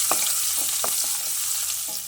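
Spoon stirring a sizzling tempering of cumin seeds, urad dal, turmeric and crushed garlic in hot oil in a pan: steady frying crackle with soft, irregular scrapes and taps.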